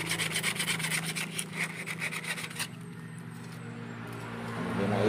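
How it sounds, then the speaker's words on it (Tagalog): A file rasps in steady back-and-forth strokes on a boat's propeller shaft, close by at first, then the strokes stop and only a low hum of the surroundings remains. "Sunod ay lihain ko muna yung shafting para makita natin or kung kailangan bang palitan ng bushing ito"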